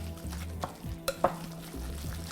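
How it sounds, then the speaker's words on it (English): Zucchini pancake batter seasoned with lemon pepper being stirred in a bowl, a close, continuous scraping and sloshing with a few sharper clinks of the utensil against the side. "And we're gonna just stir this all up,"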